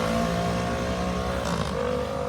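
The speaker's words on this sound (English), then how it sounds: "There we go, loud motorbikes, cars." Busy street traffic with loud motorbikes and cars, engine drone steady and fairly close, with revving rising and falling as vehicles pass.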